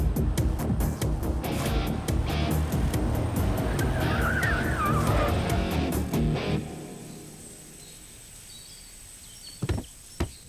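A car drives with a loud roar and tyre squeal, then its engine dies away as it comes to a stop, leaving near silence broken by a couple of brief knocks.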